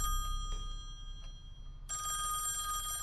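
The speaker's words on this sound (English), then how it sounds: "I should answer the phone." A telephone rings inside a house in the horror video game Song of Horror, a bright electronic bell that grows louder and sustains over a low hum, with no talking.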